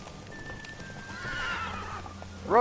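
Hooves of Roach, the Witcher 3 horse, clop along steadily before a sharp, loud whinny bursts out at the very end, with no talking.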